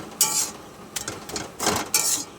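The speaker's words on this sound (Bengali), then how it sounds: "এইভাবে ঘেটে দেবো। খুন্তি দিয়েই কেটে দেবো" A metal spatula scrapes and chops through cooked red spinach in a pan, giving a few bursts of scraping metal-on-pan clatter separated by short pauses, close and fairly loud.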